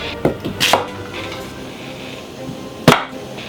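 A knife chopping stacked potatoes on a board for a merguez burger, with a few sharp, close chops near the start and one loud chop near the end, separated by quiet gaps and no speech.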